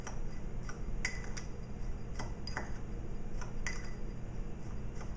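A spoon scrapes and taps against a bowl while almonds are stirred into sugar, giving a string of light, irregular clicks and clinks at a quiet level with no talk.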